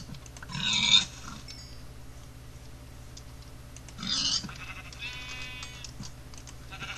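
Pigs in the Minecraft video game give two short grunting squeals about three seconds apart, close and fairly loud over a quiet low background hum.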